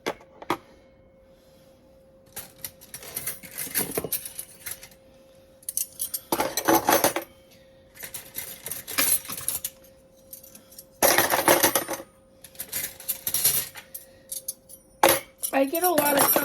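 Metal silverware clinks and rattles in a kitchen drawer as pieces are sorted and set in place, in bursts of bright clatter with brief pauses and a steady faint hum underneath.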